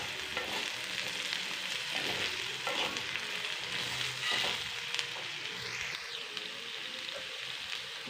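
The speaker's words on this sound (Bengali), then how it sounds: "দিয়ে 1 মিনিট নাড়বো আলুগুলো।" Potatoes and curry leaves sizzle in a pan for potato kurma curry, with a steady, loud frying hiss and occasional scraping stirs of a spoon throughout, no voices.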